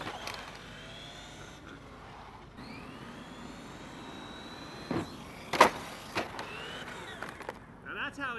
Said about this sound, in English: The last test for today is this remote control car.